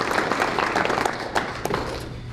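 Audience applause for Coach McCrary at his retirement during a Scott County School Board meeting, a dense, fairly close burst of clapping that tapers off over a couple of seconds.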